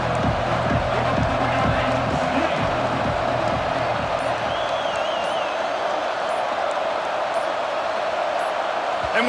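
Stadium crowd roaring in the EA Sports College Football 26 video game, Georgia Tech versus Indiana, a steady loud wash of cheering with rhythmic low thumps early on.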